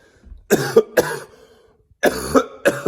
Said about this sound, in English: Cue the cough.